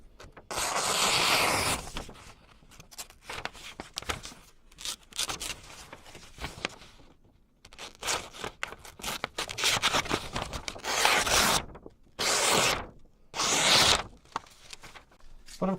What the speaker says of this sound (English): So one test is, will it cleanly slice a sheet of paper